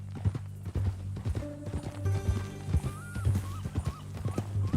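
Horse hooves clip-clop steadily in Red Dead Redemption 2, rising into a whinny and snorts near the end, over a low game ambience with no talk.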